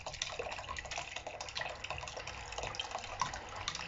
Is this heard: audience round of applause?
no